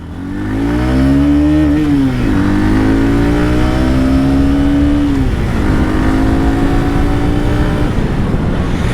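A Hero Glamour X-Tec motorcycle engine under way on a ride, a loud steady drone that rises in pitch through the gears, dropping briefly at each shift before climbing again, with no talk.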